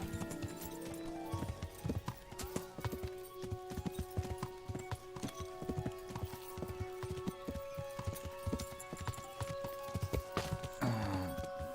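Horse hooves clip-clop in a steady running rhythm in the medieval video game Kingdom Come Deliverance, close and continuous, with a brief neigh near the end and game music tones underneath.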